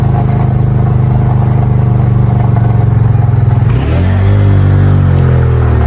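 A motorcycle engine runs loud and close with a fast, steady throb. Partway through, it shifts and rises to a higher, smoother drone as the bike gets under way.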